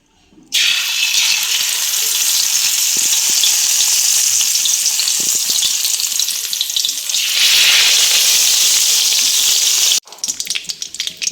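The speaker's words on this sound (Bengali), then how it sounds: "মাছটা এবার আমি ভেজে নিচ্ছি" Hilsa fish coated in salt and turmeric frying in hot mustard oil, a loud steady hiss and crackle that starts abruptly and runs continuously, easing briefly before cutting to quieter sputtering.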